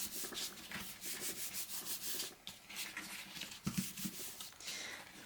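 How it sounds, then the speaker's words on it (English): Paper card stock for a pirate-themed interactive album being creased and folded along score lines, giving soft repeated rubbing and crinkling sounds close by, steady across the clip with no talking. "now we can just fold each one of those other little score lines"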